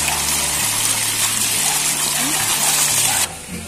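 Turkey berries (sundakkai) being rinsed in water in an outdoor garden kitchen, with a steady loud gush and splash of water that runs continuously and then cuts off abruptly near the end.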